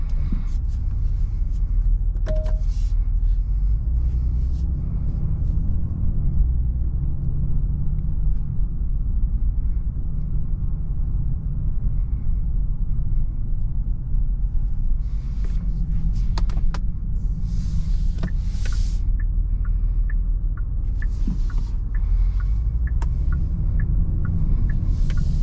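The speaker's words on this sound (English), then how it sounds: "let's go ahead and take this beautiful Genesis G70 on a drive" 2023 Genesis G70 driving on the road, a steady low rumble of engine and tyre noise heard from inside the cabin, continuous and fairly loud, with a few faint clicks and interior knocks.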